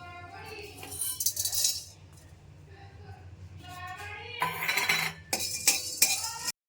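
Whole spices are stirred in a dry pan for a paneer dish, with a utensil scraping and clinking against the metal in uneven bursts that are louder toward the end, under a voice.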